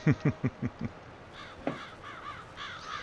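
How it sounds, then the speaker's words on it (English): Crows caw in Farming Simulator 22: five quick, loud caws in a row, then softer, more distant calls trailing off against a quiet farm background. "I like the crows, though."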